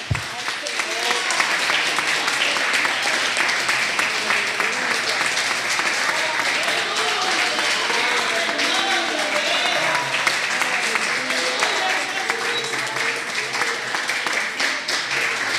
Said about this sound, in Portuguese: As palmas louvam e glorificam.